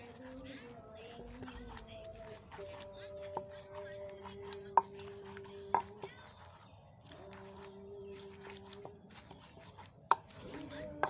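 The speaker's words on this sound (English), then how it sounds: "I'll go ahead to grind my Alefu and set it aside" Alefu (amaranth) leaves being ground for a Ghanaian stew with yam, giving sharp, irregular knocks and scraping taps over a steady kitchen background, with a few louder impacts standing out.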